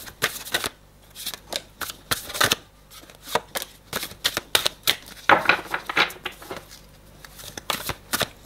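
Tarot cards shuffled by hand during a reading: a close series of crisp riffling flutters and snaps in uneven bursts, steady and fairly quiet, with no talk.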